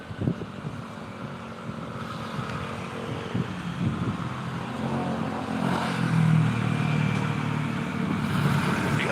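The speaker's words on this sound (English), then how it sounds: "They got so many motorbikes out here." Motorbikes pass on a road, engines rising and fading one after another and swelling louder toward the end, with wind noise underneath and nobody speaking.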